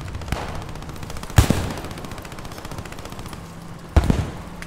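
MG42 machine gun in the Squad 44 video game rattles in continuous rapid bursts, with two sharper, louder shots standing out above the steady stream of fire.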